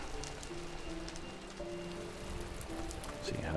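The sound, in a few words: rain in Minecraft video game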